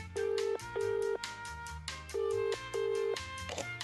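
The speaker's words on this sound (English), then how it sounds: "Please wait 1 second while I phone my boss." Phone keypad tones in the Ever After Inc. video game: four clear, steady dialing tones in a quick series, each about half a second, over a low musical backing.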